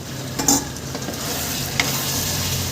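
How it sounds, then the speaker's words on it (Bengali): Fried potatoes sauté with mutton in a pan, a continuous sizzle broken by a couple of sharp metallic clinks of the spoon while stirring. "আলুটা ভেজে রেখেছিলাম সেটা আমি দিয়ে সামান্য একটু পাঁচ মিনিট কষিয়ে নেব"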